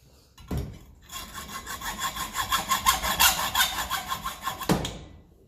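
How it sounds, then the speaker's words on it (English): Hacksaw cutting through a pipe on a 1954 Ferguson 20 TEF diesel tractor, a close, rhythmic series of rasping back-and-forth strokes of about four seconds between two clunks. "we can, or just cut it with the hacksaw"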